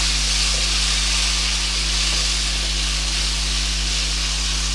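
Onions browned dark with tomatoes fry in a pan with a steady, even sizzle and hiss, accompanied by a constant low electrical hum and no voices.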